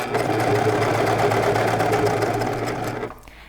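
Sewing machine stitching pajama pants fabric, a steady fast mechanical whir running continuously at close range, then stopping abruptly near the end, leaving near silence.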